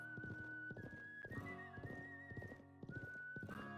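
In the Wild West chapter of the video game Live A Live, horse hooves clip-clop in a steady rhythmic pattern while a neigh and a thin whistling tone sound over them, faint but clear.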